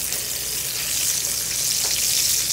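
Food sizzles and crackles steadily in a hot pan as it is turned with tongs, a loud, continuous frying hiss with a brief scrape or clink partway through and no one talking.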